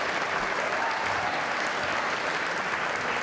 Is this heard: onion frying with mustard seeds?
no